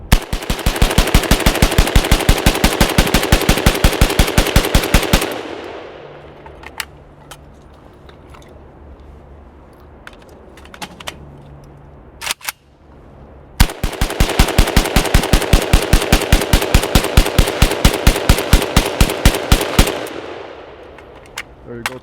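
Machine gun firing long sustained bursts of rapid rounds, loud and close, in two strings of about five and eight seconds separated by a quieter pause with faint clanks and handling noise.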